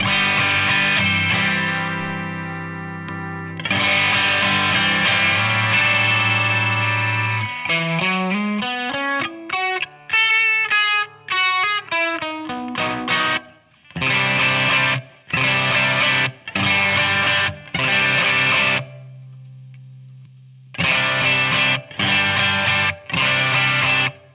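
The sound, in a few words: electric guitar through Bluesbreaker-style overdrive pedal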